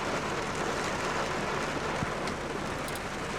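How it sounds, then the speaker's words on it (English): Heavy rain falls outside a car, a steady dense broadband hiss of drops on the body and glass filling the whole stretch at an even level, with one brief low thump partway through. "It was raining heavily outside"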